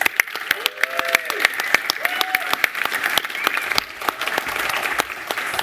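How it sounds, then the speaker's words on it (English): Lively clapping and cheering from a conference audience at Codegarden 2022, close and continuous with crisp individual claps, with a few voices calling out over it. "Let's give them a round of applause."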